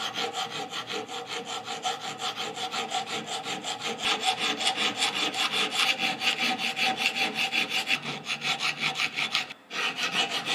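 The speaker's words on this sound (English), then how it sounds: "I've made a scribe line across here to where I'm going to file the bevels in now." A hand file cuts bevels into a steel kiridashi marking-knife blade in steady, rapid back-and-forth rasping strokes, close and loud, with a brief pause near the end.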